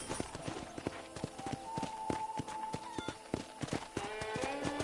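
Steady clip-clop of a horse's hooves in Red Dead Redemption, a brisk regular walking beat heard close, with faint ambient game sounds and birdsong behind.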